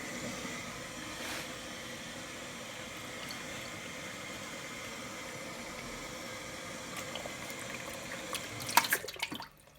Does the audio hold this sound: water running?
yes